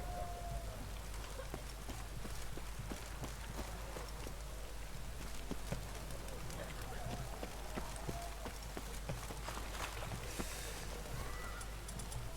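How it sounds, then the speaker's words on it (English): Steady video game rain in The Witcher 3 patters continuously, with scattered droplets tapping on surfaces and a faint low hum beneath. "It's raining."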